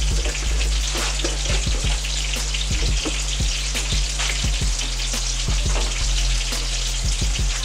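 A heaping tablespoon of minced garlic sizzles loudly in the hot pot of a pressure cooker, a dense crackling fry with sharp spattering pops and a steady low hum underneath.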